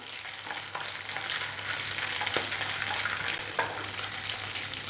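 Cashews and raisins fry in ghee with a dense, close crackling sizzle, broken by a couple of light clicks from a stirring spoon.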